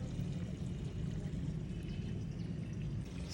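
Water flows steadily into a garden as a continuous, even rush and splash, close by and without a break.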